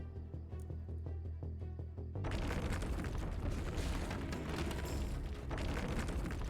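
Walls being knocked down with the destroy tool in The Last Spell, a dense rumbling crash that starts abruptly partway through and then holds steady, following a quieter musical passage.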